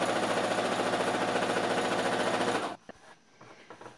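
Sewing machine stitching a salwar belt, a rapid loud mechanical rattle of needle strokes that runs for almost three seconds, then stops abruptly into quiet handling noises.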